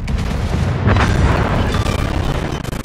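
Warship guns fire in the naval battle game World of Warships, a loud, dense stretch of booming blasts that merge into a continuous rumble, close and heavy throughout.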